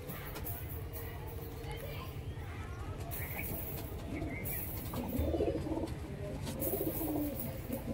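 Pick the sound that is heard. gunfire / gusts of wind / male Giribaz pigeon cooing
male Giribaz pigeon cooing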